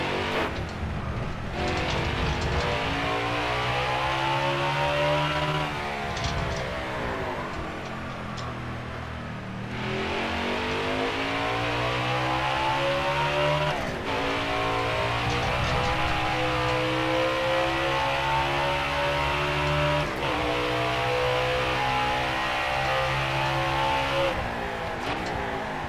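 A NASCAR Heat 5 race car laps the Indianapolis road course, its engine wailing up through the revs, dropping sharply at shifts and braking points, then climbing again in a steady, loud, close drone.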